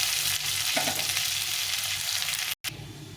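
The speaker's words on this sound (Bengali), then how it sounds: "আলু পেঁয়াজটাকে একসঙ্গে ভেজে নিতে হবে" Potatoes and onions frying together in oil, a loud continuous close sizzle with faint stirring scrapes, broken by a brief moment of silence near the end.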